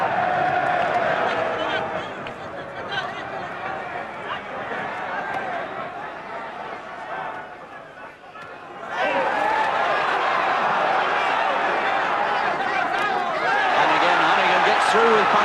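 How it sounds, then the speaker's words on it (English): A large boxing crowd at the 1988 world welterweight title fight between Lloyd Honeyghan and Jorge Vaca sings and roars continuously, a dense wash of voices under a commentator's talk, dipping briefly before swelling loud again. "And this crowd singing their appreciation of him."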